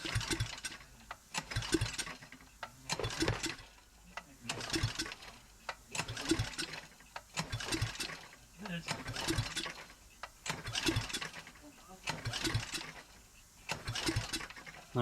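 Briggs Raptor small engine being pull-started repeatedly during a compression test, steady rhythmic cranking and rope-pull whirring in a regular series, with a voice talking briefly over it.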